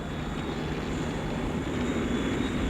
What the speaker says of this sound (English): In a few moments, I'm going to open up my jet engines.